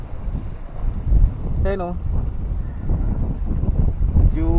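Strong wind buffets the microphone at Bonuan-Tondaligan beach in Dagupan, a continuous rough roar, while people talk briefly over it.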